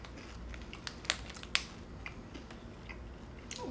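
Crunchy corn cheese chips are chewed close to the microphone, faint irregular crackling bites with a few sharper crunches standing out against a quiet background.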